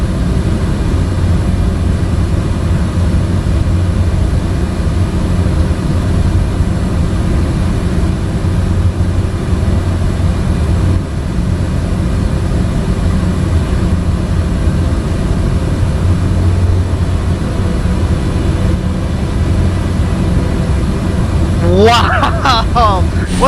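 Light aircraft engine cruising at about 150 knots in Microsoft Flight Simulator, flying over Mozambique: a steady, continuous drone held throughout, with a brief sharper burst near the end.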